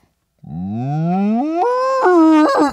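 A man imitates a cow, drawing out one long, rising, nasal moo that climbs in pitch over a couple of seconds, heard alone and close.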